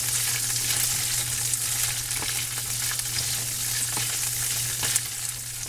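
Carrots and green beans fry in a pan for a beef and green bean stir fry, giving a steady, close sizzle with occasional stirring scrapes and no talk.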